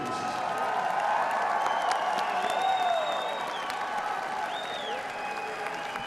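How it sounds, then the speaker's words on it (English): Crowd applause and cheering for two mixed martial arts fighters in a cage after a professional bout, a sustained roar of clapping heard at a moderate distance, with tonal whistles and arena noise over it and no clear speech. "Ladies and gentlemen, a big round of applause, please, for both of the fighters in this cage"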